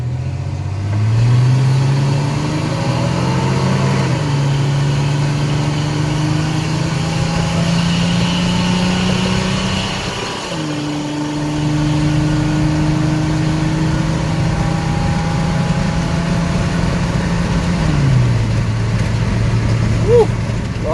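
Chevrolet S10 pickup with a swapped-in engine pulling hard at highway speed, around 65 mph, its steady engine drone climbing through gear changes over road and wind noise, heard from inside the cab, with brief talk from the driver.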